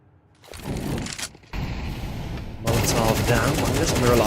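Rapid bursts of automatic rifle fire from a Counter-Strike pro league match, two loud sprays back to back with a short gap between them, close and dense over game ambience.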